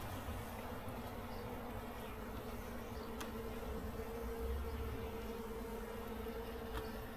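Bees buzz at a dying hive in a steady, continuous close drone of many wings humming together, with a few faint clicks and no talking.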